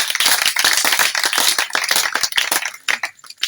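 Congregation clapping in a church during a Passover service, a dense, steady wash of many hands applauding together at close range, thinning briefly near the end before picking up again.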